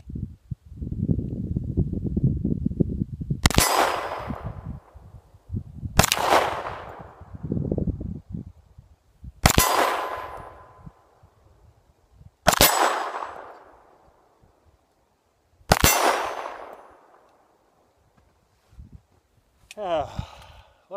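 Five sharp Sig Sauer P220 pistol shots at a shooting range, each followed by a ringing clang from a steel target, spaced a few seconds apart, with talk in between.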